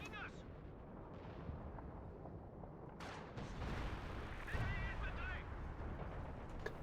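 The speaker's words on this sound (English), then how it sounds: "we also have the coordinated barrage for the house" An artillery barrage in a strategy game battle, heavy booming shell fire and blasts rolling in repeatedly at moderate distance, with a voice talking over the action.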